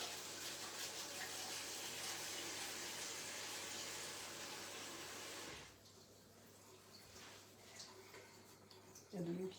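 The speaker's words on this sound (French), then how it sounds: "Alors, je vais me nettoyer les mains." Tap water runs in a steady, close rush while hands are washed in a home kitchen, lasting about five and a half seconds before it shuts off, leaving quieter room sounds and a few small knocks.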